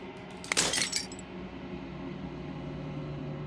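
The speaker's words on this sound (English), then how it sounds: "As the final fragment of glass shatters" Glass shatters in the video game Slay the Princess: a single bright crash with a brief tinkling scatter of fragments, followed by a low, steady ambient drone that lingers afterward.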